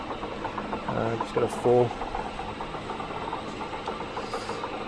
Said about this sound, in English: I'm running in a high speed position on the Bridgeport head, so it's running beautifully after I've repaired it.